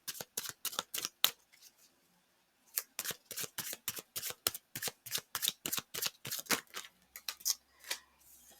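Tarot cards are shuffled and drawn up close, with rapid, crisp riffling snaps in quick bursts, a short pause near the start, then a long run of steady shuffling clicks.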